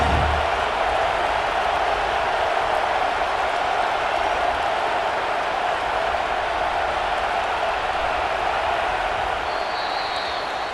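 A stadium crowd in a college football video game roars steadily during a fourth-down field goal attempt, a constant, moderately loud wall of noise with no talk over it.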